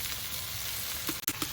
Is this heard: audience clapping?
no